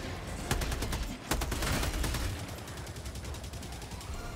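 Gunfire in the co-op shooter Helldivers 2 as a player empties a full magazine: rapid automatic shots crackle in quick succession, with louder cracks early on and continuing fire against a dense background of battle noise.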